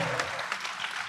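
A live fight-night crowd applauds after a bout, a steady wash of clapping from many hands that holds at an even level for a brief moment.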